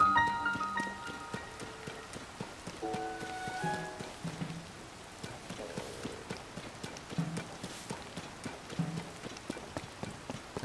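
Rain falls in Zelda: Tears of the Kingdom as a steady patter of drops, with quieter musical tones mixed underneath.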